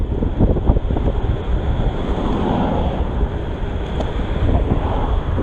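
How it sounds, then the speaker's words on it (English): Steady, loud wind buffeting the microphone while riding an eBike, a continuous low rumbling roar with no voices. "It is quite windy, so I can't hear the motor at all. I just hear the wind in my ears."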